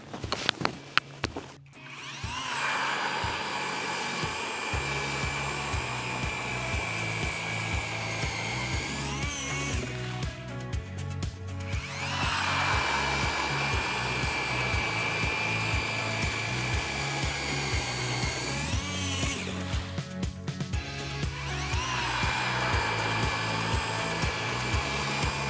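An E40 electric auger drills holes, giving a loud, steady motor whine that runs almost without a break, with slight shifts in pitch and load as each hole is bored.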